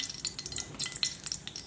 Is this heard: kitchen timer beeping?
no